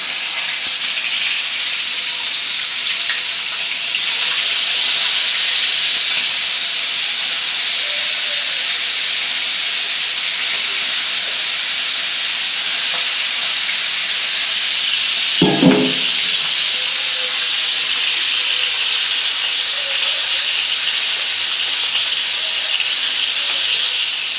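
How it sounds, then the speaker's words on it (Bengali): Spice-coated koi fish frying in hot oil, a loud, even hiss of sizzling that holds steady for the whole stretch, broken only by one brief low knock partway through. "তেলটা গরম হয়ে গেছে এখন আমি মশলা মাখা মাছটা একে একে দিয়ে দিব"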